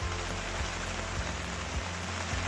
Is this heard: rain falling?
yes